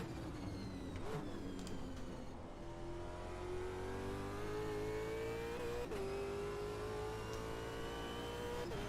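Race car engine in Automobilista 2 at Bathurst, a loud continuous whine climbing and holding pitch as the car accelerates through the gears, with a gear change just before the six-second mark, alone without talk.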